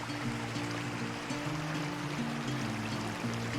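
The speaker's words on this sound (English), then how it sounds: "there's a mini waterfall right there" A small waterfall on a walking trail near Mt. Vernon, a steady broadband rush of flowing water running continuously and evenly, with a low tonal hum layered beneath it.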